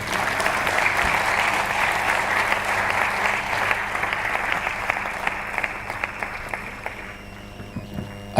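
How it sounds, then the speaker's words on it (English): A conference audience gives a sustained round of applause for a Bank of America managing director at a university international week opening ceremony, dense clapping holding steady for about eight seconds and thinning toward the end. "Another resounding round of applause for Yvonne Ike"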